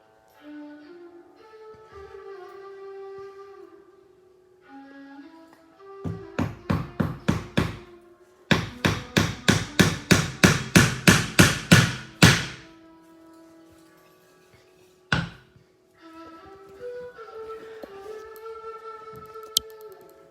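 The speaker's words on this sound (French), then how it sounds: "J'aurais planté 2 clous aujourd'hui" A hammer drives nails, heard as two bursts of rapid, loud, evenly spaced strikes with a single blow afterward, set between stretches of quieter background sound.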